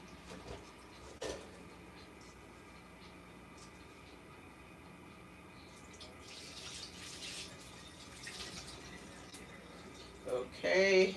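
Spinach is rinsed under a running kitchen tap, a steady soft water noise that continues quietly for several seconds and swells near the end.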